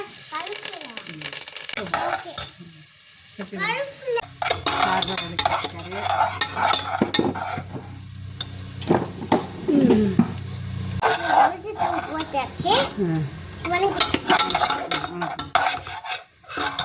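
Onions and curry leaves sautéing in a pan for sambar give off a steady sizzle with repeated scraping and stirring strokes, while a few voices talk over the cooking.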